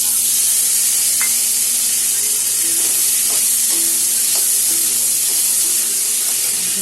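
Chopped tomato drops into a pan of frying potatoes, setting off a loud, continuous sizzle and hiss with a few faint stirring clinks, with no talking.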